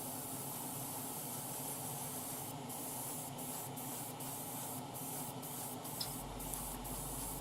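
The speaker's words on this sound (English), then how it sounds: "So the first thing is the engine something I'm going to spray." An airbrush or spray gun paints the engine of a Tamiya 1:12 Repsol Honda RC211V model motorcycle, giving a steady, close, continuous hiss with short breaks in the spray.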